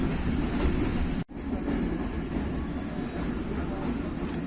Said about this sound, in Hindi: स्लो स्पीड में चिकलाला क्रॉस कर रही है 46 डाउन पाकिस्तान एक्सप्रेस।